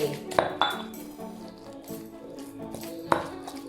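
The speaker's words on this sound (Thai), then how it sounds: "ตำให้เข้ากันนะคะ" A pestle knocks and grinds in a mortar while shrimp-paste chili dip is pounded, with a few sharp clinks and thuds over a low scraping clatter at close range.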